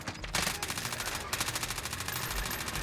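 Rapid automatic gunfire from Call of Duty Warzone, a dense, loud stream of rounds in steady bursts running for nearly three seconds with a few heavier shots at the start.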